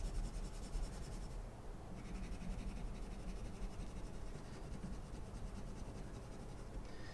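Colored pencil is drawn across paper while coloring in a web pattern: a faint, steady dry scratching that continues without pause, close to the microphone, with no one speaking.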